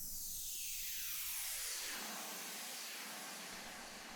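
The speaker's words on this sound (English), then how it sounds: "so I got the noise preset out of the same R&B drum kit" A synthesized noise sample from an R&B drum kit preset sweeps as a filtered hiss, rising from a dark rush to a bright airy wash over four seconds, steady and fairly loud with no other sounds.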